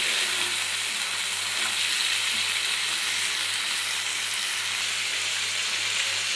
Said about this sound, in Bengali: দিয়ে দেবো ভেজে রাখা চিংড়ি মাছগুলো। এবার এটাকে খুব সুন্দর করে মিলিয়ে নেব।